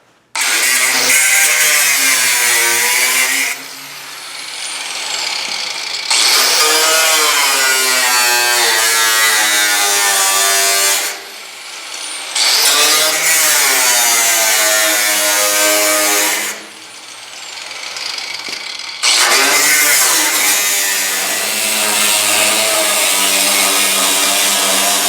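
A power tool cutting into the steel A-post of an MG Midget during restoration, running as a loud, harsh, continuous buzzing whine in long bursts separated by short pauses, with no talking.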